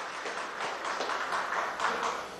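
A crowd in a hospital gives a short round of applause, a dense, fairly soft patter of many hands clapping throughout without pause.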